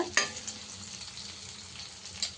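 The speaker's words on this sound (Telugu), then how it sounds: "పచ్చి పచ్చివాసన పోయేంత వరకు మనం ఇలా ఫ్రై చేసుకున్నాం" Ginger paste sizzling and frying in a pan for a chicken masala curry, a steady close crackle with a brief stir near the start and another near the end, no voices.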